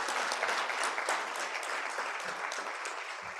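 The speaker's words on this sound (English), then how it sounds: "Please give them a round of applause" Applause from a conference audience at a financial inclusion forum, dense sustained clapping throughout that fades slightly toward the end.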